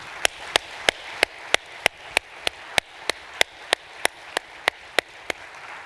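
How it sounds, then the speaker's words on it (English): A handful of people at an awards luncheon clap in a slow, steady, almost metronomic rhythm, about three sharp claps a second, each distinct against a quiet room. "Let's give all our award winners one more round of applause,"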